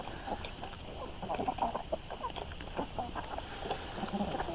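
Chickens clucking and scratching while eating, pecking at a chicken carcass, liver and eggshells, a busy flock of soft, irregular clucks over steady background noise.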